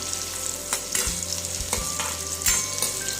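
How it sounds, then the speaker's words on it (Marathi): Chopped onion frying in a pan for a sprouted moth bean usal, a steady sizzle with repeated scraping strokes of a spatula stirring it, close and fairly loud with no talking. "कांद्याला व्यवस्थित परतवून घ्या, छान लालसर कलर येईपर्यंत कांदा परतवू द्या।"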